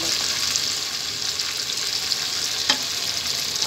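Chicken pieces fry in a pan with oil, a steady, bright sizzle with occasional louder pops and stirring noises, close and continuous with no talking.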